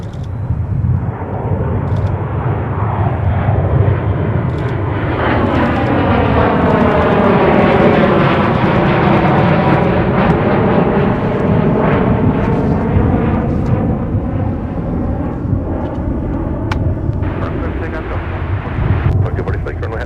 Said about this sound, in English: We have a BizJet, a Gulfstream taking off ahead of our Delta flight